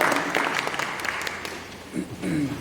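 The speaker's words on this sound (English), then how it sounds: "You can clap. That's fine." Audience applause in a school board candidate forum room, a dense crackle of claps across the whole span with a brief voice rising near the end, moderately loud and close.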